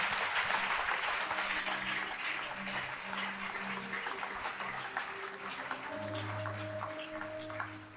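Church congregation clapping together in a steady, dense wash of applause that fills the whole stretch, with some sustained musical tones and a low hum rising underneath toward the end.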